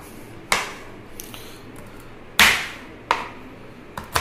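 A knife cutting small green turkey berries (sundakkai) in half on a board, a few separate sharp chopping knocks spaced irregularly, close and clear against a quiet background, no talking.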